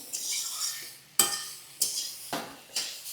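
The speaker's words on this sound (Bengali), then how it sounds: "চিনি দিয়ে এটার মধ্যে আরেকটু ভাজা ভাজা করব।" A spoon repeatedly scrapes and clinks against a pan as papaya curry with sugar is stirred and fried, with four sharp strokes over a soft sizzle.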